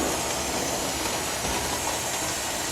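Steam vents from a Presto pressure canner as a steady, loud rushing hiss, continuous and unbroken, with no voices over it.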